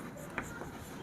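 A maths teacher writes a geometry solution by hand during a Hindi-medium Class 10 lesson on heights and distances, with one brief scratchy stroke standing out over a faint, steady room background.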